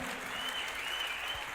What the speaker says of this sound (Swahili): Si wapigie makofi kama wako smart.